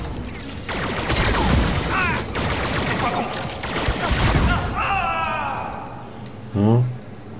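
Blaster fire in the video game Star Wars Outlaws on PS5: rapid, loud volleys and mechanical shots crowd the first seconds, then a few whirring sci-fi effects and a final burst, with a voice speaking over the action.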